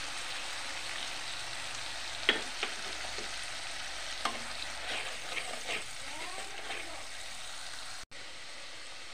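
Chicken chili rice frying in a pan while being stirred: a steady sizzle with scattered scraping clicks of the spoon, ending abruptly.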